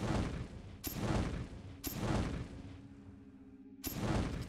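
Gunshots in the video game Vampire the Masquerade: Bloodlines, three or four heavy booming blasts spaced about a second apart, each trailing into a rumbling decay.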